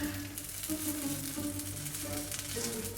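Msemen dough frying in an oiled crepe pan gives a low, steady sizzle mixed with soft hum and faint clatter, continuous throughout without any voices.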